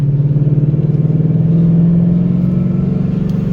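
A supercharged 2011 Ford Mustang GT 5.0 V8 cruising at about 2,000 RPM in 4th gear, just under 40 mph: a steady, loud, low rumbling engine drone with a slight pulsing throb and no talk.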